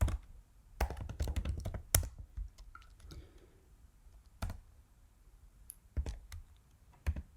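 Someone types a command on a computer keyboard to launch a Python script. Close, crisp key clicks come in quick bursts separated by short pauses, with a few louder isolated taps.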